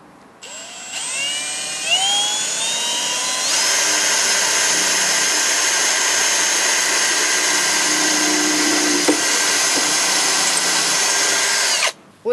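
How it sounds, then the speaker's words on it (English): A power drill bores holes for a handlebar lock on a homemade one-wheeled electric scooter, its motor whining up to speed and then holding a loud, steady close-up drone for about ten seconds before stopping. "When you have drilled the two holes"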